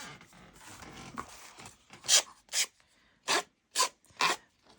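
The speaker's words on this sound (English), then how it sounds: "I'm going to get my little emery board." Rasping strokes of an emery board used as a sanding block on the paper of a Little Golden Book journal, several short bursts in an irregular rhythm, close and crisp, with quiet rubbing between them.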